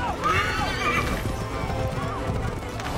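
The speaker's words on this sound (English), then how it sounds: "Pretty spry horse." A horse in the video game Assassin's Creed 3 whinnies loudly over the rhythmic clip-clop of galloping hooves, with a second shorter neigh following; the sound carries on alone without talk.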